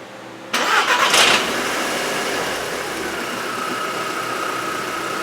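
A 2008 Volkswagen Jetta with the 2.0T engine cranks briefly and fires up, settling into a steady close idle.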